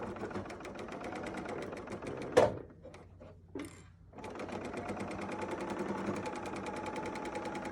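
A serger sewing and cutting through several layers of fabric for a mug rug, running in a fast, steady mechanical stitching rhythm close by, pausing briefly midway before starting up again.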